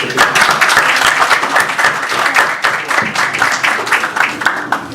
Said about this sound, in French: Je vais applaudir moi-même.